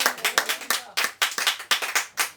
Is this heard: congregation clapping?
yes